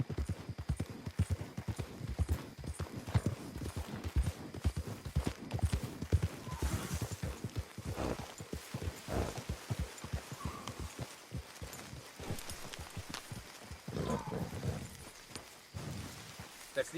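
Horse hooves clip-clop along a road in the Western video game Red Dead Redemption 2, a steady, fairly quiet rhythm of thuds from several horses that continues throughout.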